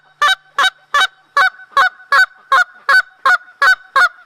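Canada goose honks blown on a hand-held goose call, a steady series of eleven loud, evenly spaced nasal honks close up, with no other sound between them.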